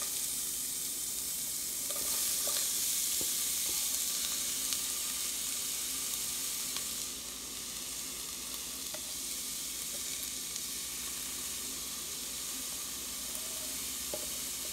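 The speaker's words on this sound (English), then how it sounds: "On the skillet and put the onions in the skillet. Let it cook." Onions frying in oil in a skillet produce a steady, even sizzle and crackle that holds for the whole stretch, with faint clicks here and there and nobody talking.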